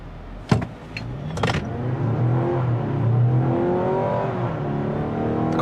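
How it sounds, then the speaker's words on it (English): A 2025 Mazda CX-70 Turbo S SUV engine revs up hard from a brake-torque launch at full throttle, climbing steadily in pitch as it accelerates, loud and sustained, with a brief clunk at the start. "let's go ahead and just brake torque it and floor it."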